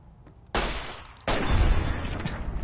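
Rifle gunfire in the video game Fallout New Vegas: two sharp, loud shots about three-quarters of a second apart, each followed by a lingering, rumbling tail, with the second blast heavier and echoing to the end.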